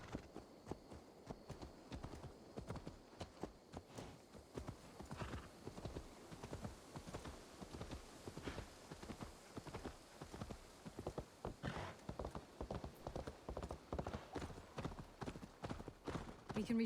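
A horse gallops in Assassin's Creed Valhalla, its hooves pounding in a fast, regular rhythm throughout, with characters talking over the hoofbeats.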